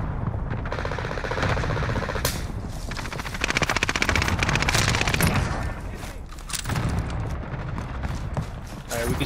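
Rapid automatic gunfire and single shots from Call of Duty: Modern Warfare, loud and dense throughout, in close dense bursts with booming impacts and no gaps of silence.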